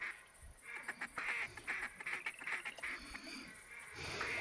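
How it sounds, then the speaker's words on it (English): Black ducks calling from the water during a duck hunt, a run of repeated quacks and calls over steady background noise, moderately near and fairly loud throughout. "There's some black ducks in there"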